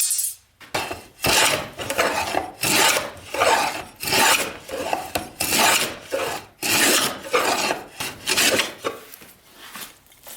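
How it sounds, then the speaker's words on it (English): A hand saw cuts a piece off a wooden workpiece for a rabbeted joint in a workshop, a series of about a dozen rhythmic rasping strokes, close and loud, each stroke separated by brief pauses. "So I've got to cut a piece off"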